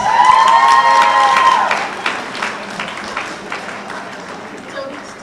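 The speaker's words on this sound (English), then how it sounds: "Mum and Dad, give them a round of applause" A crowd at a Rose of Tralee festival event breaks into applause and cheering, loud at first with a voice rising over it, then tapering into scattered claps and crowd murmur.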